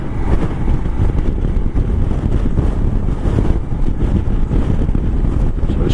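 Heavy wind buffets the microphone while riding a 2022 Royal Enfield Himalayan motorcycle on a windy day, a loud, steady roar mixed with low engine and road rumble throughout.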